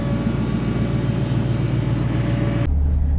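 A 1973 Ford Mustang's 302 V8 idles with an average muffler, a loud steady low rumble with faint whine, then an abrupt shift to a deeper, duller drone near the end.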